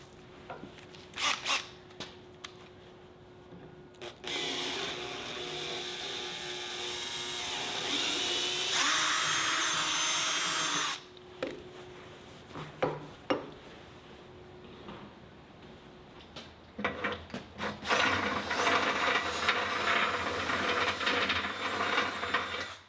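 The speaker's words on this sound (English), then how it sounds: "The holes all needed to be drilled out after the powder coating." A power drill bores through holes in a powder-coated steel fireproof safe, with bursts of high whining cutting separated by pauses, clanks and handling noises in a quiet room.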